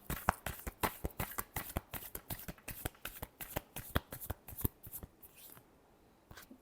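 Tarot cards being shuffled in a run of quick, crisp riffling bursts, close and fairly loud, easing off toward the end with no talking.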